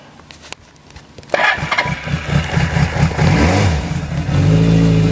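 A motorcycle with a fuel enricher is started up: brief ticking, then the engine catches with a sharp burst and runs, revving up and down through rising and falling pitch, close and loud.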